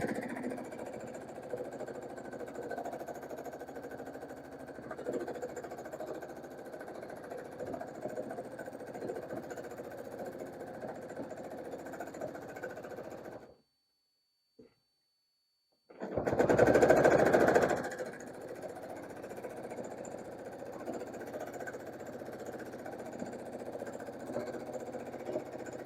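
A home sewing machine runs steadily through free-motion quilting, its motor and needle chatter continuing close and even, broken by a brief pause before it starts again with a louder burst and carries on.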